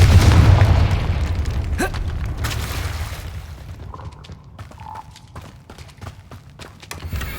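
A Confringo blasting spell detonates in a Harry Potter video game, a loud booming explosion up front followed by a few sharp pops and crackles over a rumbling low background.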